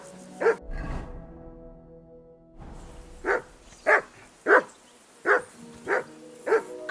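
A dog barks in the video game Kingdom Come Deliverance 2, one sharp bark and a low thump, a short pause over soft tones, then six loud, evenly spaced barks close by.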